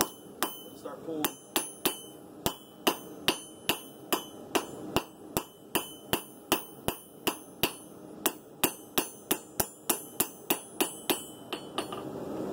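Hammer blows glancing off an anvil while forging the bevels of a simple steel blade, making a long, steady run of sharp, ringing metallic strikes at a regular rhythm, close and loud with no talking.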